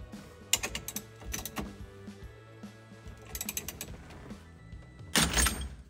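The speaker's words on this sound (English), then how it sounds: "as I tighten this down, it's going to lift the steering wheel away from the spline shaft on the column" A steering wheel puller is tightened to lift the wheel off the column spline on a 1979-1983 Toyota pickup, making repeated close ratcheting clicks and metallic turning bursts that end in a sudden loud crack as the wheel breaks free.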